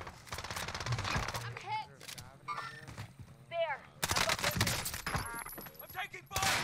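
Rapid gunfire bursts from the Modern Warfare Warzone video game, loud and near, in repeated volleys with voices talking over the shooting.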